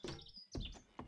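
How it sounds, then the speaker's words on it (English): Birds chirp in the video game 7 Days to Die (Alpha 19), with several bright, quick tweets close by in rapid succession over a brief moment, and no talk over them. "Gonna find birds out here."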